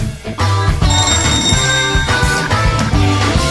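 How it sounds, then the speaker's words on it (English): An old black telephone rings loudly and insistently in a PS4 horror game, its bell-like trill repeating in bursts over a dense, continuous musical background with no talking. "I even have an auditory hallucination of the sound of the black telephone ringing."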